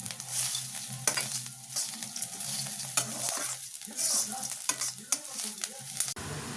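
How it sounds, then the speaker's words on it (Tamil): A piece of tamarind sautés in a hot pan with chutney ingredients for parandai chutney, a steady close sizzle and fry broken by scraping stirs of a spoon, with no talk. "புளி ஒரு பீஸ் போட்டிருக்கேன். நல்லா வதங்கி நிற்குது."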